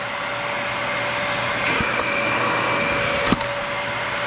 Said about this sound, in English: So it looks like we have a perfectly good vacuum cleaner